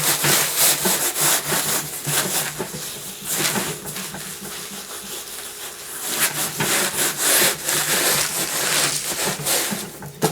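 Coarse salt is ground by hand into a fleshed deer head hide, around the ears, lips and nose, during taxidermy mounting: a steady, close, gritty scrubbing and rubbing, with short bursts of harder grinding throughout.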